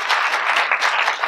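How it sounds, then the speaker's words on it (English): Sustained applause from a conference audience at a keynote talk, dense steady clapping filling the whole moment with no speech over it. "It's good to clap."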